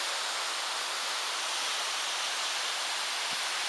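A waterfall on the Warrie Circuit walking trail pours in a loud, continuous broadband roar with no breaks, close and steady throughout.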